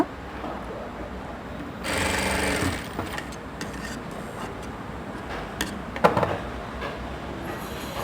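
Sewing machine stitching lehenga fabric, a rapid whirring burst about a second long amid steady background noise, followed by scattered clicks and handling knocks.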